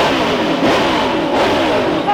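Nissan GTR engine revving hard from inside the car, a loud continuous mechanical roar with a slight rise and fall in pitch, with people talking under the noise.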